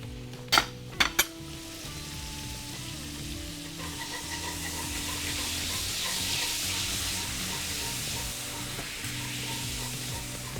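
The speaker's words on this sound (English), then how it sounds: "Whisk this through and then it'll start thickening up." Starchy pasta water is whisked into a sauce in a pan, opening with a few sharp clinks of metal against the pan before a soft, steady sizzling and stirring bubble, with no talking.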